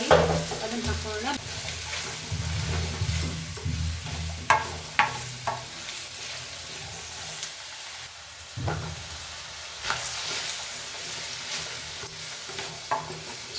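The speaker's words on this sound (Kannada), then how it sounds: "ಇವಾಗ ಹಚ್ಚಿಟ್ಕೊಂಡಿದ್ವಲ್ಲ ತರಕಾರಿ ಅದನ್ನು ಹಾಕೋಣ." Chopped vegetables sizzle in hot oil with mustard seeds in a pan for ridge gourd gojju, a steady close frying hiss broken by repeated scraping stirs of a spoon.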